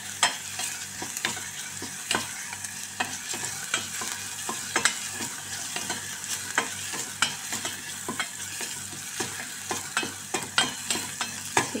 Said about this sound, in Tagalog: Sige lang, mekos-mekos lang ng bawang at sibuyas.